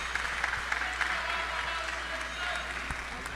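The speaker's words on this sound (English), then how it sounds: "please give them a round of applause as we thank them" An audience at a town hall meeting on fighting crime claps in steady, sustained applause, a dense even patter of many hands at moderate distance, with a voice speaking over it.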